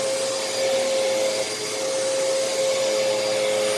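A Moosoo U1400-A vacuum cleaner runs steadily in a living room with a loud, even motor whine and a high hissing airflow, close and continuous for the whole stretch with no voices.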